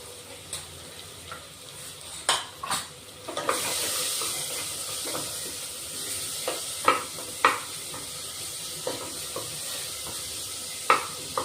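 Onion, tomato and whole spices are sautéed into a masala for home-style mutton curry, a steady sizzle in a pan broken by repeated clinks and scrapes of a stirring spoon at close range.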